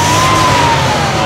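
A BMW E36 Limited Edition engine, remapped, held at high revs near 7000 rpm, a loud steady droning roar with a sustained high whine, close and alone.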